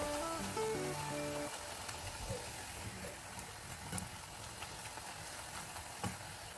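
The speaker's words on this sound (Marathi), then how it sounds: "पुऱ्या दोन्ही बाजूनी छान तळून घ्यायच्या आहेत" Jowar flour puris with coriander and fenugreek fry in oil, making a steady, soft, broadband sizzle that runs throughout; a few brief musical tones sound at the very start.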